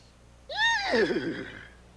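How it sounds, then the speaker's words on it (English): A horse whinnies once, a loud rising neigh that quavers and trails off over about a second and a half, heard alone against faint background hiss. "That's a horse."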